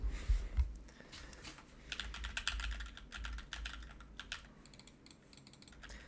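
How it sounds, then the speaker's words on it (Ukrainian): Steady typing on a computer keyboard is picked up by a microphone being tested, a continuous run of light, close key clicks with no voice over it. "Тепер давайте послухаємо, як буде чути клавіатуру."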